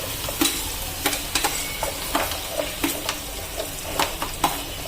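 Onions and chillies go into hot oil for Gujarati batata poha, crackling with a steady sizzle while a spoon scrapes and taps the pan in a series of sharp, uneven strokes.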